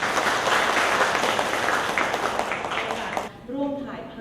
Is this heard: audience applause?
yes